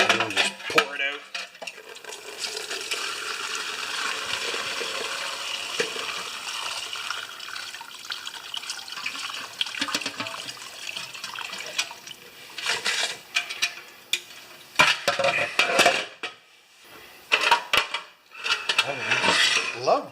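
Old gasoline poured out of the fuel tank of a Honda-powered air compressor, a steady liquid splash and trickle running for long stretches, broken near the end by short clattering knocks as the pour tapers off.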